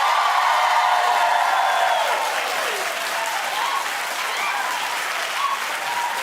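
A studio audience at a talk show claps together in sustained, dense applause, loud and steady before easing slightly, with faint cheering mixed in.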